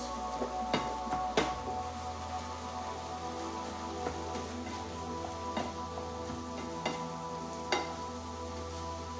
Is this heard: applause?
no